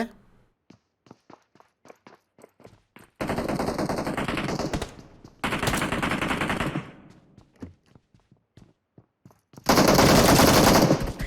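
Uzi submachine gun in PUBG Mobile fires in short sharp bursts and single taps, then three sustained loud automatic volleys, with no talking.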